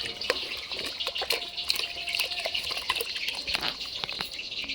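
Running tap water splashes steadily as something is rinsed under it, a close, continuous hiss with small irregular splashes and drips throughout and no talking.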